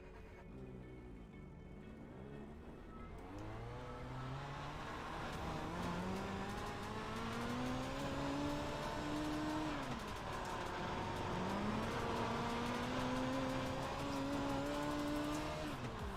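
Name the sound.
race car accelerating in a racing simulator video game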